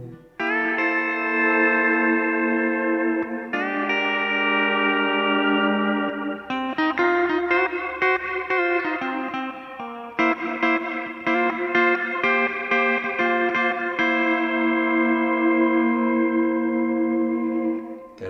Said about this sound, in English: Okay, to me you're getting more like a Leslie type sound.